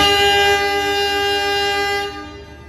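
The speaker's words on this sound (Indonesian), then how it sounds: "Hongengnya mantap sekali, klaksonnya CC203." A CC203 locomotive sounds its multi-tone horn as it departs Madiun station, a loud, steady chord held for about two seconds before fading away.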